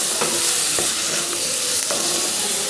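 Freshly pounded ginger and garlic being stirred into golden-brown fried onions in hot oil for bhindi masala, with a steady sizzle and a few soft spoon scrapes throughout.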